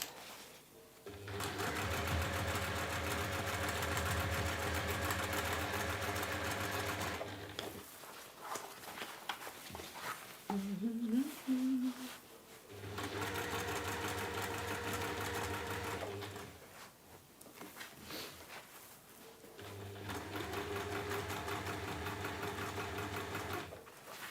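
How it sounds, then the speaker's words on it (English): Domestic sewing machine stitching around the edge of a fabric market trug, three long steady runs of whirring motor with brief pauses between as the work is turned. "we can otherwise just sew around everything"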